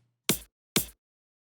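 An X for Records kick drum sample, filtered, plays twice in isolation: two short, punchy thumps with a bright click, evenly spaced, dry and alone.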